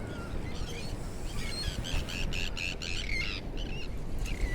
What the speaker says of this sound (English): There's lots of birds.